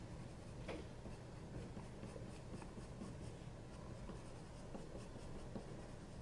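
Prismacolor colored pencil layered over paper, a soft continuous scratching and rubbing of the lead under steady strokes, close and quiet with no voices.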